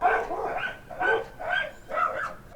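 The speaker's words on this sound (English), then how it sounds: "There's a dog fight going on outside." Dogs fight and bark outside, with repeated loud barks coming in four bursts of roughly even rhythm, some yelping, heard clearly with no one talking.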